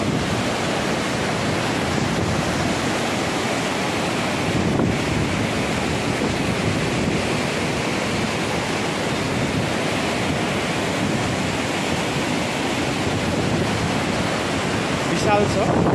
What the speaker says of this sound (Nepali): पानीको बहाव बढेको छ।